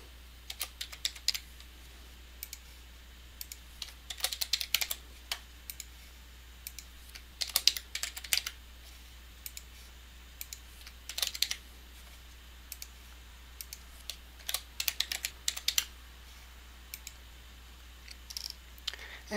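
A computer keyboard typed on in short irregular bursts of light clicks, close and fairly quiet, separated by pauses, with no talk.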